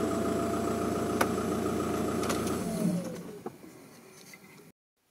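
A car engine runs at a steady idle after an ABS wiring harness repair, a close low hum with a few clicks before the sound fades and cuts off.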